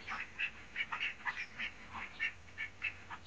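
Laying ducks on a duck farm quacking in a rapid series of short calls, moderately near and fairly faint over a quiet background hiss.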